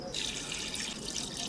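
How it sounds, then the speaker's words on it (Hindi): Water pouring into a mutton karahi as it cooks, a steady splashing stream running close and continuous for the whole moment, with no talk over it. "1/2 लीटर पानी जो है वो हम इसमें शामिल करेंगे।"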